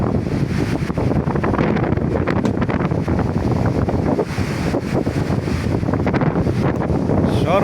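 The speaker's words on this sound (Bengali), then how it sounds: "সাগরের ঢেউ" Sea waves at Guliakhali beach in Sitakunda roll in as a constant, loud broadband roar, heavily buffeted by wind rumbling across the microphone, with no clear break between surges.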